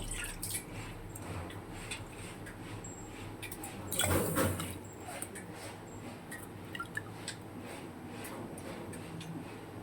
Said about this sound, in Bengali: যেটার মাপে আমি চিনিটা নিয়েছি সেটার আমি 2 বাটি জল দিয়ে দেব